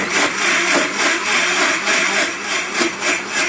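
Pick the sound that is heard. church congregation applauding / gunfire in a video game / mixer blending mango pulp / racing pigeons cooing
mixer blending mango pulp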